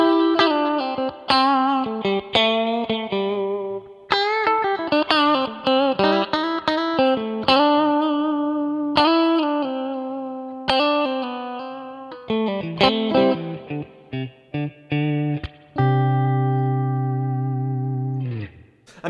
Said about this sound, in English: normal kind of spring reverb, like a Fender style, I'd put it about a 2-second decay